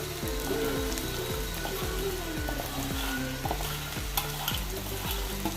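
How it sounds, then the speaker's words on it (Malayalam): Fried crispy corn stirred into sizzling masala in a kadai, a continuous close, loud frying hiss with regular spoon scrapes and clinks about twice a second, no talking. "ചോളം ചേർത്ത് കൊടുക്കാം"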